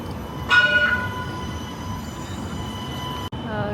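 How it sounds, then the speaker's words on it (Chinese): A light rail train passes through the streets of Jaffa, a sustained rumbling roll with a bright wheel squeal near the start, holding steady before an abrupt cut near the end. "然后呢，轻轨已经开通了。"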